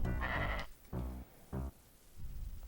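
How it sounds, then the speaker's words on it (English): Video game goat bleats loudly three times in short, throaty calls with brief gaps between them. "Oh crap. Here's a goat."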